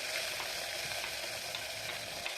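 Onions sauté in hot oil with a steady, close sizzle and soft stirring underneath, continuous and even with no voices.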